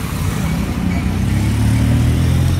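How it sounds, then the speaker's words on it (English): City traffic on the approach to downtown Kampala: a steady, loud blend of car and motorcycle engines close by, with a low rumble that swells slightly toward the end. "I need you to notice that the cars are increasing, and the noise is slowly increasing"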